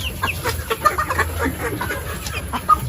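Darag native chickens cluck softly and intermittently nearby, short low calls scattered over a constant background hum.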